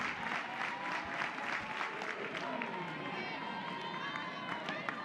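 A crowd cheers and claps at a college softball game, a broad roar under a voice talking, fairly faint and distant, holding steady throughout.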